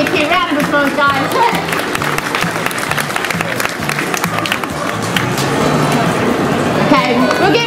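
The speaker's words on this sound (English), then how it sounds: "Round of applause, guys." Audience applauding at a dog lovers show in Sydney, continuous close clapping and crowd noise that swells slightly near the end, with voices mixed in.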